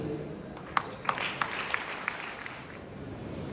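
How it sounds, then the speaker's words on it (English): Scattered audience clapping at a school fest, with a few sharp, distinct claps standing out over a soft, sparse patter that thins toward the end. "Let's welcome them with a warm round of applause"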